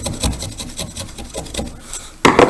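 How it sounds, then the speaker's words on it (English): Chisel working on wood by hand, a series of quick close scraping strokes in an uneven rhythm, ending with a sharper louder scrape. "I'm chiseling on this half."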